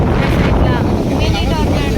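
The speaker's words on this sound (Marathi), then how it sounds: "वारा सुटला जाम बघितलं बघा टॉर्नॅडो आला" Strong wind buffets loudly throughout, a dense continuous roar with gusty rumbling, faint voices mixed in underneath.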